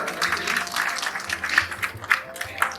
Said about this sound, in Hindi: तालियां जोर से हो जाए।